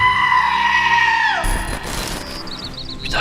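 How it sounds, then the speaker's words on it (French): Goats bleat up close: a long, wavering, nasal cry that slides down and cuts off, followed by softer rustling and faint chirps in an outdoor setting. "sans oublier, bien évidemment, le bruit des chèvres."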